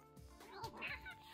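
A pet cat makes a soft, brief, strained mewing and chirping sound nearby in a quiet indoor room. The sound is faint and breaks into short warbling bits.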